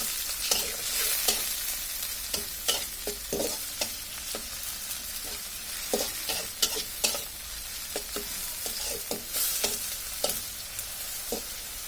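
Dried shrimp fry with onions in a pan, a constant close sizzle broken by frequent sharp scrapes and taps of a spatula stirring the mixture.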